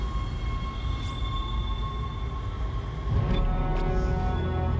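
A tram in the video game Dead Space moves along with a steady mechanical hum and low rumble, thin tonal whines riding over it, and the rumble swells a little louder toward the end.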